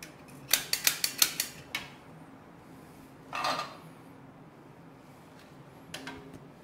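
A flat-bottomed pot clatters on a kitchen stove: a quick cluster of metallic clinks and taps, then a brief scraping rattle and a last light knock, faint and close in a quiet room.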